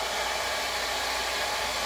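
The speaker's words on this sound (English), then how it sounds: "Now I'm going to take my dryer and I'm going to dry that a little bit" A hair dryer blows steadily on a wood Christmas ornament, a loud, even broadband whoosh that runs unbroken and close to the microphone with no talking.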